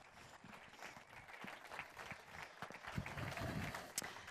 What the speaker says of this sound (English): Round of applause for Jarmo